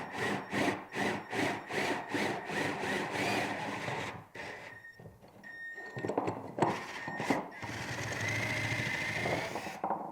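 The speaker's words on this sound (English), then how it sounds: "so I'm just going to use a regular hand drill" A regular hand drill bores a hole for a homemade swivel vise, the bit rotated to widen a mushroomed opening; the motor whirs in pulsing bursts, then grinds steadily, close and alone.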